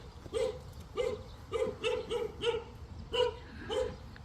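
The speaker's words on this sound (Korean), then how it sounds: "개가 두 마리가 이렇게 짖고 있네요" Two dogs bark repeatedly in the garden of a country house in a riverside village, a steady run of about eight sharp barks at moderate distance with no talk over them.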